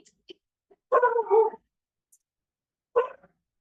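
Dogs bark indoors in a home kitchen: one fairly close burst of a couple of quick barks, a pause, then a single shorter bark, with near silence between and no talking.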